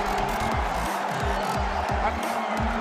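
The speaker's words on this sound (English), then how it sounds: "And listen to this crowd roar." A roaring, cheering crowd at a tight MPBL 2022 basketball game between Pampanga and Sarangani fills the arena with a steady, loud wash of noise, punctuated by rhythmic low thuds like a ball bouncing on the court.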